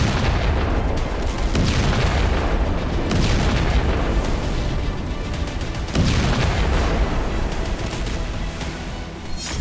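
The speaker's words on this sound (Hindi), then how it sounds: "इजराइल के बंकर बस्टर बम।" Heavy explosions from bombardment in war, a continuous roar of deep booming blasts with repeated surges about every three seconds, loud and dense with no gaps.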